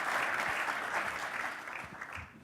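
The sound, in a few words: audience applause at a conference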